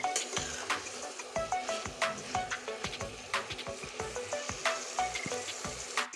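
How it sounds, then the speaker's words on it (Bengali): Potatoes for a rui fish curry sizzle and sputter in a hot pan while being sautéed, with rhythmic scraping stirs of a spatula repeating throughout at close range. "কষার সময় আলু তো তাহলে ভালো করে না কষালে ভালো লাগবে না খেতে তার জন্য ভালো করে কষতে হবে"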